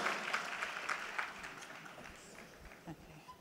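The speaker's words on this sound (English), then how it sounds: "Let's give her a round of applause, please." Applause from an education event audience rises at the start and then fades, a soft, somewhat distant patter of many hands that thins out toward the end, with a faint voice briefly underneath.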